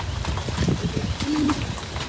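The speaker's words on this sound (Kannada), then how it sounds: "ಹಕ್ಕಿ ಏನೋ ಹಕ್ಕಿದೆ" A bird, likely a pigeon or dove, gives a brief cooing call over the steady roar of rushing water at Barude Falls, the call soft and partly masked by the noise.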